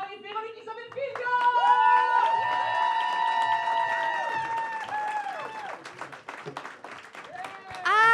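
A live audience in Saint-Jean applauds and cheers as the hosts of a live show walk on, with loud clapping and whoops under bright entrance music and voices calling out.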